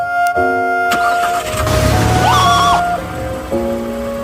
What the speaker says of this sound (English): When you turn the key in the ignition of a car...